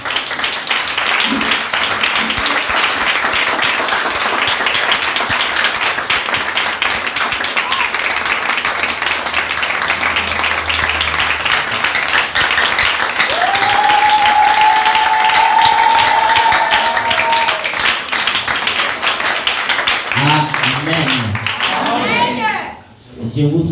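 A church congregation applauds loudly and steadily at a Feast of Tabernacles service, dense clapping filling the room throughout, with a voice speaking over it and a brief sung or spoken tone partway through.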